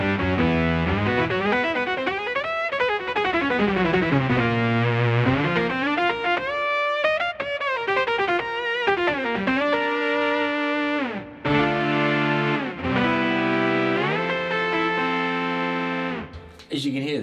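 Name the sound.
guitar through BOSS SY200 synth pedal, saw lead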